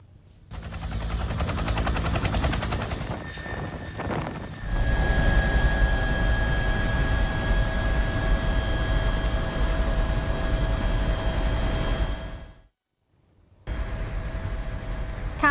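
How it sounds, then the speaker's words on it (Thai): A Bell 212 utility helicopter of the Thai Army's 4th Army Area flies in a steady, loud rotor-and-turbine roar with a thumping low rumble and a whine on top. The sound drops out briefly near the end and then comes back. "เป็นภาพบนเฮลิคอปเตอร์ใช้งานทั่วไป แบบ 212 หรือเบล 212 ของกองทัพภาคที่ 4"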